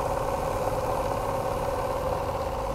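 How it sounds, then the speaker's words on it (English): A twin-cylinder engine idles through its exhaust, a steady loud close-up burble with a constant throbbing pulse and no voices. "It's a lovely engine."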